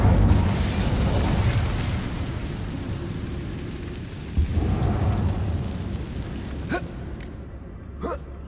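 Fiery spell blasts from the Incendio charm in the Hogwarts Legacy game, a loud sustained roaring crackle with bursts near the middle and two sharp whooshes toward the end, set over a rumbling game soundscape.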